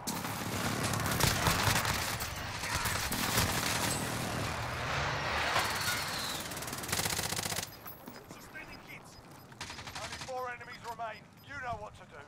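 Rapid bursts of automatic gunfire in the video game Call of Duty: Modern Warfare, loud for about eight seconds, then quieter scattered shots with people talking over them.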